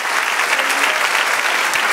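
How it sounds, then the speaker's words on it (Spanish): A church congregation breaks into steady, dense applause during a worship service, a full even wash of many hands clapping close and continuous for the whole moment, with no talking over it. "Denle un aplauso al Señor"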